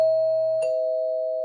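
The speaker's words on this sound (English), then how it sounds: "The doorbell rings." A doorbell rings once inside a house, a clear two-tone ding-dong with a long ringing fade, loud and alone.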